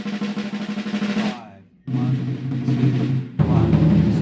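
A drummer plays a roll that moves between a snare drum and a high tom, loud and close. A dense burst of hits breaks off after a short gap, then comes back twice with a deeper body.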